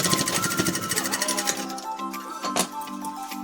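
Sewing machine running a final reinforcing stitch on a lungi, a fast steady mechanical chatter with regular needle beats that stops partway, leaving a fainter whirr and a couple of sharp clicks.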